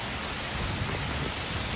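Heavy rain pours down steadily at a campsite in Africa after days of wet weather, a dense, continuous hiss close by with no voices.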